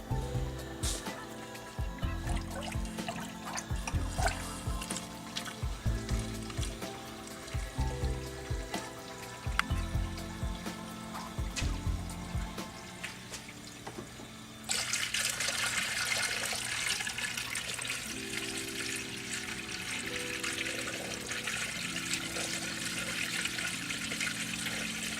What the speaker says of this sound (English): So we're gonna actually put the antifreeze in now.